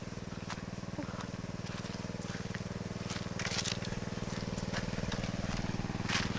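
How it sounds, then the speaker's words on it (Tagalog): A small water pump engine runs in a hot farm field while watering bitter gourd, a steady, rapid low chugging throb with occasional crackles and rustles over it, close and continuous. "karoon tayo ng water pump lang"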